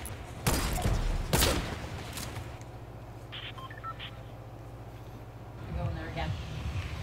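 Gunfire in Fortnite: two sharp loud shots early, then softer scattered pops and electronic beeps over a low steady hum, with a brief burst of activity near the end.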